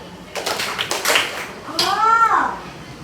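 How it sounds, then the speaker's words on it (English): Several people clap their hands twice in a classroom lesson, two quick close taps under a speaking voice, followed by a sliding electronic tone. "Everyone, please clap your hand 2 times for turn off the light."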